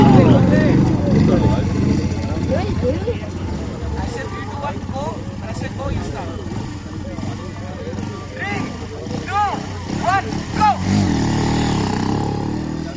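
Off-road motorcycles race over a bumpy, pothole-filled dirt track at an off-road challenge event, engines revving and rising and falling in pitch as they bounce along, with a voice talking over the loud, continuous engine noise.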